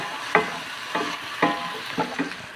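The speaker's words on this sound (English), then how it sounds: "I'm frying these broccoli in the pan that I fried the meat in." Soft sizzling of broccoli in a pan with several distinct scraping stirs spaced about half a second apart, close by and moderately quiet.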